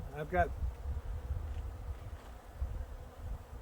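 Bees buzzing faintly outdoors around a bucket feeder, a low wavering drone with light wind, after a brief burst of a voice at the start.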